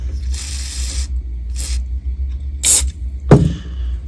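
An aerosol can sprays a stuck part of an antique American Bosch 660T radio during repair, giving several short hissing bursts separated by pauses, then a scraping knock, over a steady low hum.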